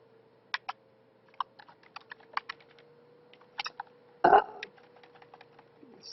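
Scattered clicks of someone typing a short note on a computer keyboard, irregular bursts of keystrokes close and fairly quiet over a faint steady hum, with one louder thump midway.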